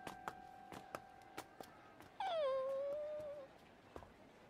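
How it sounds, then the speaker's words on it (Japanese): A dog whimpers once in a drawn-out, falling whine, close and quiet, after a few soft scattered clicks and taps. "いつだったかにおった犬じゃねえか。"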